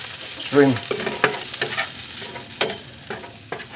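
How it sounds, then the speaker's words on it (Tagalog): Shrimp pan-roasting in a hot pan: close crackling sizzle with several clattering stirs and scrapes of a utensil at uneven intervals. "magbusa-busa lang tayo ng hipon"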